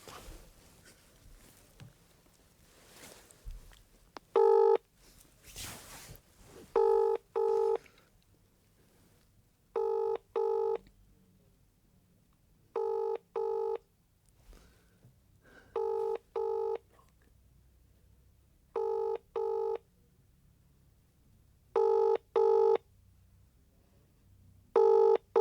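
Touch-tone telephone keypad dialing: short bursts of paired beeps in evenly spaced groups, repeated about eight times, loud and clear over a quiet room with faint background rumble and no talk.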